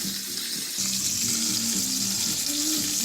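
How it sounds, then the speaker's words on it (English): Beef broth poured into a hot pan holding a seared rib eye steak gives a steady, close watery rush with a soft sizzle and low bubbling throughout, with no talking. "we're going to take this beef broth and pour it in there"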